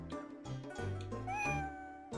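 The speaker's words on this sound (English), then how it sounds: "Is that a cat?" A video game cat meows a few times in quick succession, drawn-out and rising in pitch, fairly close, with no talking over it.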